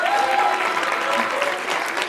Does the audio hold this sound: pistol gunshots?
no